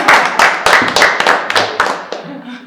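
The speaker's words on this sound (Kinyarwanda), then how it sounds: "ariko mwamumere amashyi" A crowd of friends and family clapping in applause for Mike at a season finale gathering, loud close rhythmic claps with voices mixed in, tapering off toward the end.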